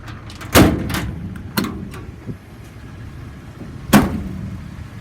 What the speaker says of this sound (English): All the cabinet doors open and close as they should